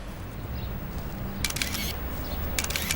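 Camera shutters fire in two quick bursts of rapid clicks over a faint room hum, fairly close and crisp.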